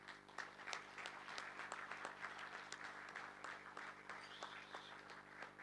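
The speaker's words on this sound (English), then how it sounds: "give a big round of applause" Audience applause at a mushaira poetry gathering, faint and somewhat distant clapping of a modest crowd with a steady hum beneath, no speech over it.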